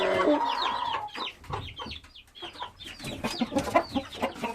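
Roosters and hens cluck busily in a coop, with overlapping close calls and a few sharper crowing notes early on.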